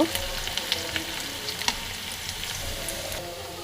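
Beef sizzling in a pan as it is stirred, a close continuous fry with a few sharp scraping ticks from the spoon, no speech.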